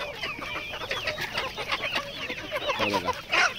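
Native village desi chickens on a poultry farm clucking and squawking close by, several overlapping short calls in quick irregular bursts, a louder flurry near the end.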